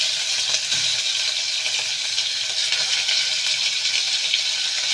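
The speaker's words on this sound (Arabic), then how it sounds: "نديها تشويحه كده حلوه" Meat sautéing in a spoonful of oil in a pot, a steady close sizzle and hiss of frying that holds at an even level throughout, with no talking.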